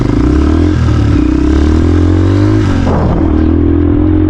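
A motorcycle engine on the Kayapa to Imugan trail in Nueva Vizcaya runs loud and close, idling with a steady low drone, then revs briefly before settling again.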